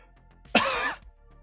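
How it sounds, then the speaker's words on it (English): A single exaggerated fake cough bursts out up close, one loud harsh rasp lasting about half a second against near silence. "I'm gonna iPad kid cough in your face."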